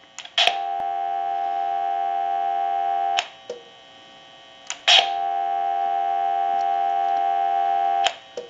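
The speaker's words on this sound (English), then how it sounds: "you're going to hear dial tone" A Trimline telephone gives a steady dial tone that cuts off briefly as the hook switch is pressed, then returns, with sharp clicks at each switch.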